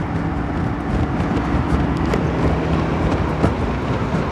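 A SYM Cruisym 250i scooter under way, a steady broadband engine and road-noise roar with wind rush, loud and continuous from the rider's position, with no talking.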